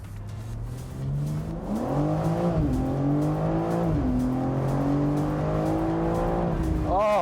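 A BMW M4 Competition Convertible accelerating hard with its sport exhaust on, the engine note climbing steadily through gear changes, loud and close, with brief talk near the end.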